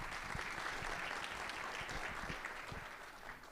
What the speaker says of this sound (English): So everybody, please give Chris a round of applause.